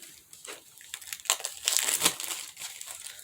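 Plastic packaging on a weight loss kit is cut open close up, giving irregular crinkling and crackling bursts that peak in the middle and then taper off, with no talking.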